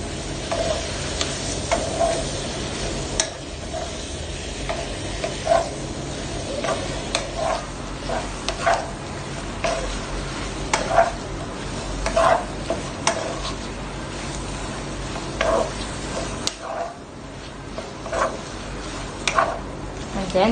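Shrimp frying in a pan while being stirred, a steady loud sizzle broken by repeated clicking scrapes of the utensil against the pan, with a voice speaking at times.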